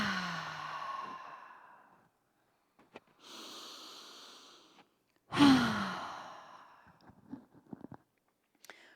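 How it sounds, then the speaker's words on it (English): Deep, slow breaths during a yoga class, a few long airy inhales and sighing exhales close to the microphone, separated by quiet pauses. "take a few deep breaths"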